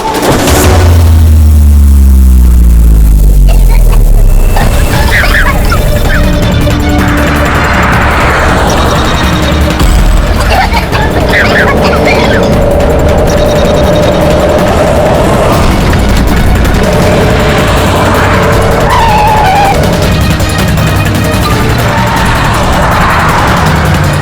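A car engine roars and revs loudly at the start with a deep boom. A sustained engine drone with tire noise continues throughout in a tense Indian crime-drama chase scene.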